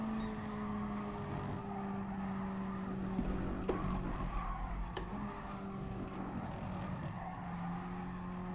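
A race car in Gran Turismo Sport brakes hard and skids, its engine drone steady beneath a tire squeal and a couple of sharp bumps, fairly faint and with no voices.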